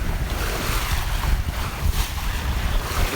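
A 26-foot sailboat under full sail, with steady wind buffeting the microphone and water rushing along the hull, a loud continuous roar with no voices.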